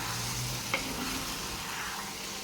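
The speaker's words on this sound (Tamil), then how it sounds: "மட்டனை இந்த மாதிரி நல்லா சுருளை வதக்கி விடணும்." Boiled mutton is stirred and sautéed in a pan with onion, tomato and green chillies, giving a soft continuous sizzle with a brief scrape of the spoon.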